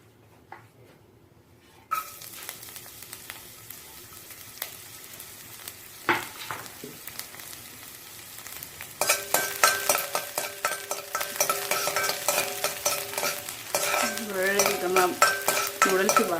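Garlic sizzling and frying in hot oil in a pan for restaurant-style veg Hakka noodles, a steady close crackle that swells louder partway through, with occasional stirring scrapes and no talk.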